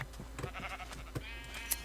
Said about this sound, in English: Sheep, sheep, sheep.